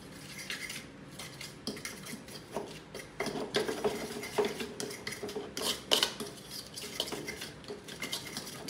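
Salted garlic fried rice is stirred in a pan, with a close run of irregular metallic scrapes and rasping strokes of a utensil against the pan, busier in the middle, with no talking.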